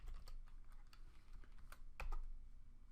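Rapid keyboard typing, a quick run of clicky keystrokes with a sharper tap near the end, close by and fairly quiet.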